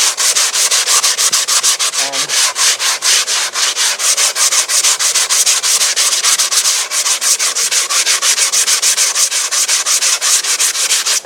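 Sandpaper scrubs rapidly back and forth over a plaster-coated RC airliner wing, a loud, close, evenly rhythmic rasping that runs for the whole stretch with no one speaking.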